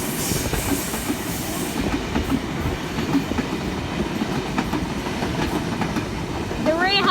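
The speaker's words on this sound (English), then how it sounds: "Here comes a train. It's a K set." A K set passenger train rolls beneath a bridge, a steady rumble with rhythmic clickety-clack of wheels over the rails, fairly close and continuous, with a rising squeal near the end.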